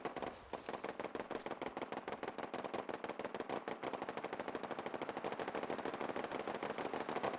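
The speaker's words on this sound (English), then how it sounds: "That sounds like our turrets" Base turrets rattle out steady machine-gun fire in Fallout 4, a rapid stream of evenly spaced shots that runs without a break for several seconds and sounds somewhat distant.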